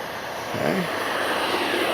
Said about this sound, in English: I'm going to take off this time with no takeoff flaps.